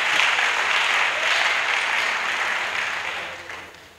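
A church congregation at a pastoral academy session applauds, a dense, fairly loud wash of clapping that holds steady and then fades out toward the end.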